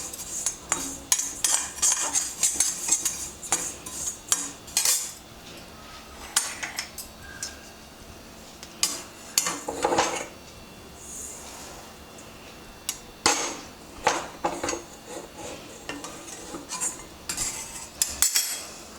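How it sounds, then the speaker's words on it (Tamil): Cumin seeds dry roasting in a pan on the stove, heard as close, scattered clinks, scrapes and stirring taps of a utensil against metal that come in irregular bursts throughout, with no talking. "இப்போ சீரகம் தான் போட்டிருக்கேன், சீரகம் நல்லா வறுத்ததும் கொஞ்சம் டைம் எடுத்துக்கும் சீரகம்"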